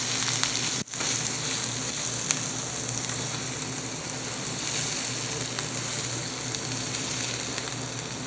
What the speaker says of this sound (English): stirring my veggies